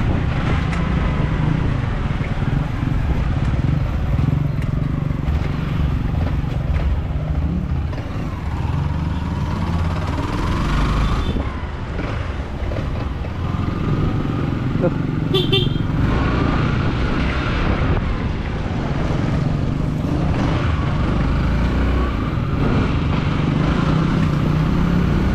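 A motorcycle speeds along a road, its engine roaring continuously amid passing traffic, with a brief horn toot midway through the ride.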